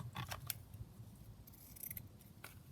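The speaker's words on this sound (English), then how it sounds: "so I will probably cut this in half again" Scissors snip through a stitched fabric ruffle, giving a few faint, close, crisp cuts in quick succession and then another short cluster of snips.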